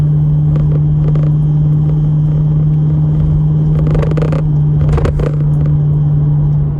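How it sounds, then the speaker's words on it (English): Steady low idle rumble of a 2007 Infiniti FX45's V8 engine, strong and continuous near the car, with a few faint clicks and scrapes over the top. "As you still hear that rumbling V8"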